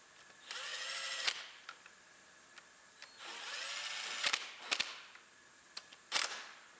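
A power tool drives bolts in during a Ford Focus rebuild, giving two longer rising whirrs with sharp clacks at their ends, then several short bursts and snaps, close and fairly quiet.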